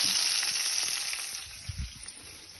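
Mustard seeds sizzle in hot oil in a pan, giving a steady close frying hiss that gradually eases, with a few soft low knocks near the end.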